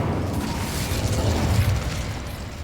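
Incendio fire spell in Hogwarts Legacy bursting as a dense, rumbling whoosh of flame that holds steady and loud for a few seconds with no voices.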